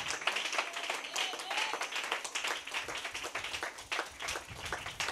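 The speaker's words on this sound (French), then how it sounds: "Donnez-lui une main d'acclamation" Steady applause from a congregation at a church service, dense clapping filling the whole stretch with a few louder swells, no pauses.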